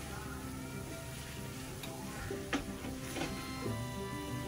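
Chicken livers being mixed in a hot frying pan: a dense, steady sizzle with a few light scrapes and clinks of a utensil, close and continuous with no voices.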